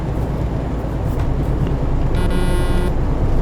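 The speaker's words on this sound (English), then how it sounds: "It's kind of common courtesy to honk at people." A truck horn in Euro Truck Simulator, a short, bright honk sounding near the end over a steady, loud engine and road rumble, no speech.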